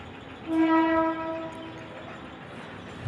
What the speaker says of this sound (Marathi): तिथनंच आवाज येतो तुम्हाला ट्रेनच्या हॉर्नचा